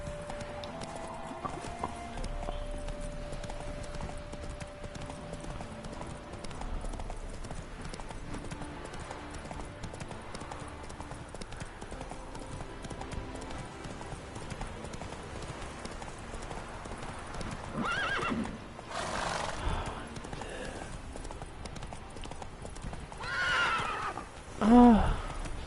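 Roach, a horse in The Witcher video game, clip-clops along at a steady trot, with a couple of whinnies rising out of the hoofbeats near the end and faint game sounds underneath.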